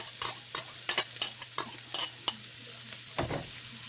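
Ginger, garlic and onion sautéing in butter in a single pot, stirred with a utensil that scrapes in quick, repeated strokes over a soft sizzle, close and clear with no talking.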